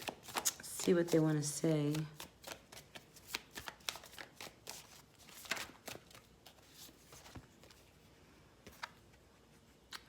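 Tarot cards being shuffled and handled in a series of soft, papery riffles and flicks, with a brief stretch of speech near the start and quieter card sounds continuing afterward.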